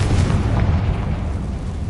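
The Confringo spell blasts in Hogwarts Legacy, a loud booming explosion with a heavy low rumble that hits at once and slowly fades across the clip.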